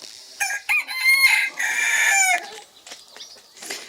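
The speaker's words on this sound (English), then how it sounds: "A lot of people think that cockerels just crow in the morning." A cockerel crows loudly and close by in a chicken pen, a long stretched cock-a-doodle-doo after a few short clucking calls, followed by quieter scattered clucks.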